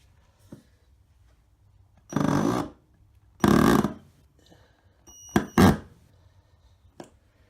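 A cordless drill left on its hammer setting drives a screw into a wooden worktop piece, several separate short bursts of rattling, juddering whir with quiet gaps between them, close by.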